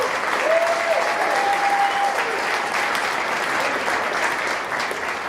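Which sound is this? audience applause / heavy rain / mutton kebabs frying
audience applause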